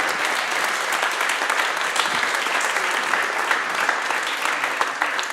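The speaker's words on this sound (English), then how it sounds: "Please give a round of applause." A crowd claps steadily throughout, a dense, lively round of applause at constant loudness without voices standing out.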